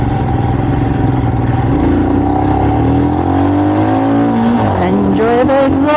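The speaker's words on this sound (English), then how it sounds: "Enjoy the exhaust." Exhaust of a Royal Enfield Super Meteor 650 motorcycle accelerating hard toward top speed, loud and close. The engine note climbs steadily and then drops with a gear change before rising again, with wind rush underneath.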